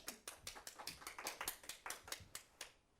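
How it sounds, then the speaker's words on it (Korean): Audience applause at a Korean talk event: a dense patter of many hands clapping steadily for a few seconds, faint and somewhat distant, no voices. "박수 한번 쳐주세요."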